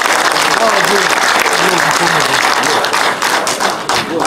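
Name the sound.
audience applause at folk singing festival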